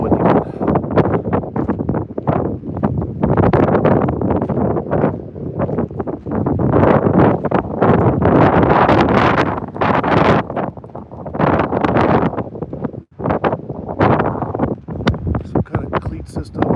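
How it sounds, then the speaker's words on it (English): Strong wind at a sea arch on the Icelandic coast buffets the microphone in loud, gusty roaring waves that rise and fall with no letup. "There's the wind again."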